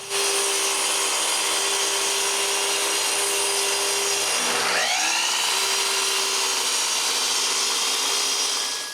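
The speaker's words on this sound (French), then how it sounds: "je trace la forme du support sur l'arrière de la table et je coupe la forme." A power saw runs steadily as wood pieces for a table support are cut in a workshop, its whine holding a constant pitch, dipping briefly midway as the blade loads in the cut, then recovering.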